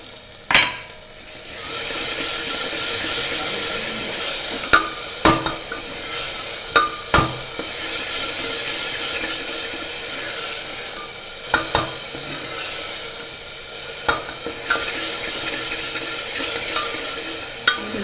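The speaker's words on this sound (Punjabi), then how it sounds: "ਹੁਣ ਆਪਾਂ ਇਹਦੇ ਵਿੱਚ ਪਾਵਾਂਗੇ ਜੀ ਆਪਣਾ ਟਮਾਟਰ ਦਾ ਜਿਹੜਾ ਪੇਸਟ ਹੈਗਾ ਇਹਨਾਂ ਨੂੰ ਚੰਗੀ ਤਰ੍ਹਾਂ ਭੁੰਨ ਲੈਣੇ ਆਪਾਂ" Onions and tomato paste fry in a pan with a loud, steady hiss, while a spatula clinks and scrapes against the metal at scattered intervals, close up and with no talking.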